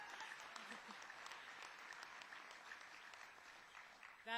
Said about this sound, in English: That applause I'll accept on behalf of not only the President